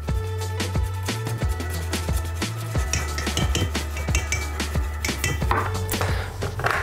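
A utensil stirring chocolate banana cake batter in a bowl, with quick repeated clinks and taps against the bowl over a steady low hum, close and continuous with no talking.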